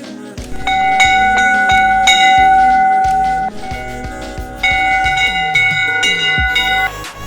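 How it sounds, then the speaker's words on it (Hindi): Temple bell rung on arrival at a hilltop temple during Navratri: repeated bright metallic strikes with long ringing tones, struck in quick irregular succession, close and loud, with a short pause before another burst of strikes. "सबसे पहले मंदिर में पहुंचकर घंटी बजाई जाती है।"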